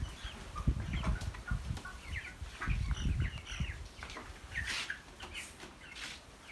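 Chickens cluck and call at a small farm pen beside banana plants, scattered intermittent clucks and short calls at moderate distance over steady outdoor background noise.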